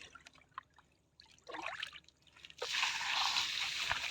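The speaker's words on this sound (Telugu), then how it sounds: "బకెట్లు డ్రమ్లో నీళ్ళు తీ" Buckets dipped into a drum to draw water on a rice farm, quiet drips and sloshes followed by a louder continuous rush of water toward the end.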